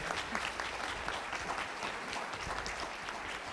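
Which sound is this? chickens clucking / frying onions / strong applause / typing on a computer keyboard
strong applause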